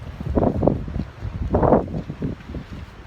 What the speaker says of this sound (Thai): เพื่อนๆได้ยินเสียงลมไหมอ่ะ